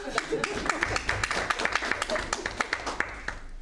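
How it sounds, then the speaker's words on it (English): An audience at a board of trustees meeting claps together in steady, lively applause that carries on throughout, with sharp individual claps standing out from the crowd's patter. "Can we clap for that one?"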